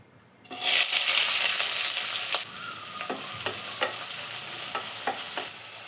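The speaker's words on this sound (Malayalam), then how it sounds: "ഇപ്പോൾ ഒരു പാൻ വെച്ച് 2 ടേബിൾ സ്പൂൺ വെളിച്ചെണ്ണ ഒഴിച്ച് കൊടുത്തിട്ടുണ്ട്. ഇതിലോട്ട് 4 സവാള സ്ലൈസ് ചെയ്ത് ചേർത്ത് കൊടുക്കാം." Sliced onions hitting hot coconut oil in a pan set off a loud burst of frying sizzle, then a steadier hiss broken by the clinks and scrapes of stirring, with no talk.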